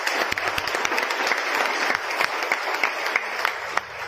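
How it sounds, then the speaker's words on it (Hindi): A seminar crowd in a hall breaks into loud, sustained applause, many hands clapping at once in a steady roar with a few sharper claps standing out. "जोरदार ताली"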